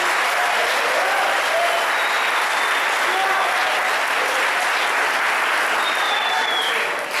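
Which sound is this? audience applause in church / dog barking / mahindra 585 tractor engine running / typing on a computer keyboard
audience applause in church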